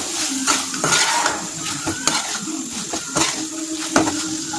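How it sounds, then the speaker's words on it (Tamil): Fried paneer being stirred into a pepper masala in a pan, with repeated scraping spatula strokes and soft sizzling, close and fairly loud. "இப்போ இந்த டைமில் நம்ம பொரிச்சு வச்சுருக்க பன்னீரை சேர்த்துக்கலாங்க. சும்மா போட்டுட்டு ஒரு 2 பெரட்டுனா போதும்"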